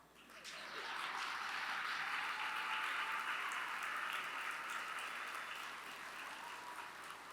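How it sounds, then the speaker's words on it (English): Audience at a spring university commencement ceremony breaks into applause, swelling quickly to a full, sustained roar of clapping that holds steady and eases only slightly near the end. "You can applaud."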